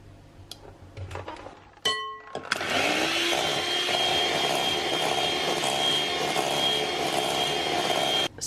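After a few clinks, an electric mixer whirs loudly and continuously as egg yolk is whisked into cooled melted chocolate, the steady motor buzz lasting to the end.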